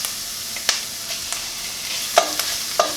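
Green curry paste fries with garlic in a pan for a lentil soup, giving a steady close sizzle with scattered sharp crackles and a few spoon-stirring clicks; no talking.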